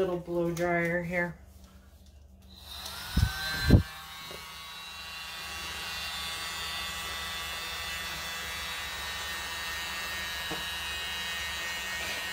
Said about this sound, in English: little blow dryer here.